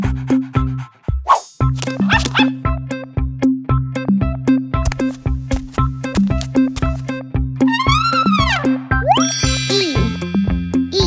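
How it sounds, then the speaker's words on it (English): Dog barking and yipping repeat over a bouncy, rhythmic backing track in a children's phonics song, with playful boing and ding effects near the end. "D for dog."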